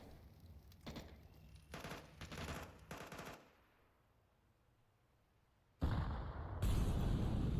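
Grenades and molotovs go off in a Counter-Strike match, rapid crackling bursts of explosions and gunfire, then a quieter lull before loud blasts return near the end.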